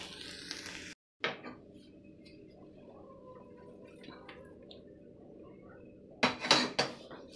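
A warm ladoo mixture is scraped from a pan onto a metal plate, with clanking metal utensil contacts at the start and end around a quieter stretch of low background hum.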